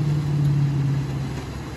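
Steady engine drone of a speedboat out on a lake, a continuous low hum holding at even loudness throughout with no voices.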